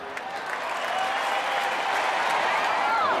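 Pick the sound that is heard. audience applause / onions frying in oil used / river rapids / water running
audience applause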